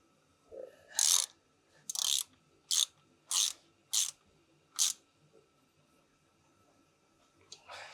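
Ratchet wrench turning out an 8mm bolt on a BMW E39 cooling system, six crisp clicking bursts at a steady pace, close and distinct, followed by a faint rattle.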